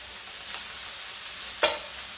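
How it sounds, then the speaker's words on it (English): Bacon and finely chopped onion frying in a pan, a faint steady sizzle with two brief scraping stirs of a spoon, the second sharper and louder. "So we just give that a little bit of a stir around."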